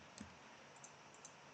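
Faint, quick clicks of a computer keyboard as values are typed into Blender, a few light taps in a quiet room.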